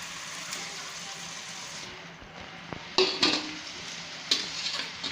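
Paneer goes into a pan of boiled potatoes, bringing a soft sizzle and a few sharp clinks of a utensil against the pan over a quiet kitchen background.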